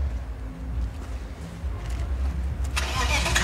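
A BMW 520 creeps slowly backward at a drift show, its engine giving a low, rumbling idle that swells into a louder, rougher burst near the end.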